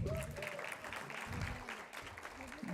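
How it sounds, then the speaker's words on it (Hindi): Audience applause at a live Bollywood tribute concert, a short burst of crowd clapping with scattered voices mixed in, fairly faint and steady throughout. "अरे भाई ताली बजाइए"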